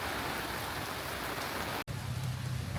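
Steady, heavy tropical rain falls in Chiang Mai, Thailand, a thick continuous hiss close by that cuts out for a split second, then resumes just as strong.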